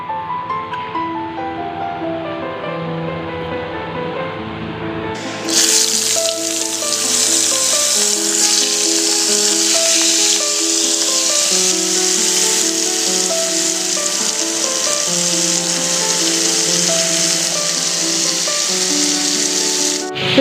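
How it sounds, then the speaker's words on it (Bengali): Prawns hit hot oil seasoned with turmeric and burst into a loud, steady sizzle that starts abruptly a few seconds in, while soft background music plays throughout. "তো চলো চিংড়িগুলো ভাজা হোক"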